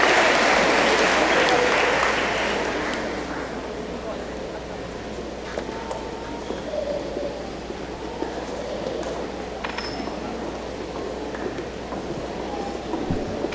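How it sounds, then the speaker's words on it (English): Applause from an audience at an eighth grade school awards ceremony, a steady broadband wash of clapping that is loudest at first and then eases to a lower, sustained level with scattered sharper claps. "Let's give them one more round of applause"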